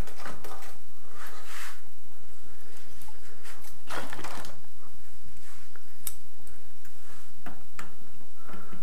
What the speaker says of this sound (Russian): А теперь мне нужно открыть эту дверь.